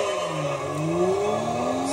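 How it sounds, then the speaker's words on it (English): A Peugeot 206 S16 racing in Gran Turismo 3 revs hard, its engine note climbing steadily through gear changes, loud and close. "Some nice snap crackling and popping."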